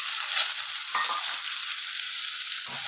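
Raw mango pieces fry with spices in a pan on a stove, a dense, even close sizzle with a couple of brief stirring shifts, no talking.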